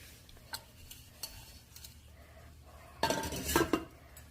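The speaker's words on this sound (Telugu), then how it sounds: "ఇప్పుడు మూత పెడుతున్నాను." A metal lid set onto a cooking pot clanks in a short burst of rattling clinks after quiet kitchen background, faint taps before it.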